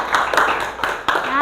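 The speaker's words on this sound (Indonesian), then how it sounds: "Tepuk tangan dulu untuk Ira" A classroom of students claps for a classmate, several short bursts of hand claps spaced irregularly across a brief moment, with voices murmuring underneath.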